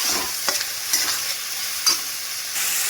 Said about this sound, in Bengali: এবার আমি ভালো করে মশলাটাকে কষাবো যতক্ষণ না এর থেকে তেল ছাড়ছি